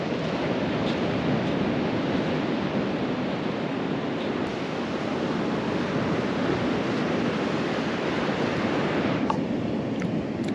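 Ocean waves break on a beach in a continuous broadband wash of surf, steady and fairly loud throughout with no voices.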